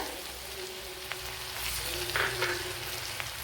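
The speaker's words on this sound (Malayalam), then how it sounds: "കടുക് പൊട്ടിയിട്ടുണ്ട് ഇതിലേക്ക് ചെറിയ പീസ് ഇഞ്ചി ഒരു പച്ചമുളക് അഞ്ചാറ് അല്ലി വെളുത്തുള്ളി ഇത്രയും ചേർത്ത് കൊടുക്കുക" Ginger, green chili and garlic sizzle in butter with popped mustard seeds, a steady close frying crackle with a few sharp pops, running alone without talk.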